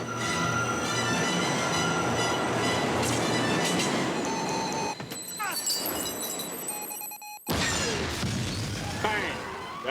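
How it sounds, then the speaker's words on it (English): Subway train explosion in a Die Hard with a Vengeance film scene, a loud roaring rush with screeching metallic tones, breaking into crashing bursts, an abrupt near-silent gap, then a renewed blast. "That's the explosion. Here it comes. You'll never outrun that."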